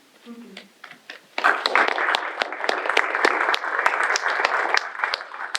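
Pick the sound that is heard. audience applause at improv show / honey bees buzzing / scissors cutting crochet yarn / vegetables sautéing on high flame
audience applause at improv show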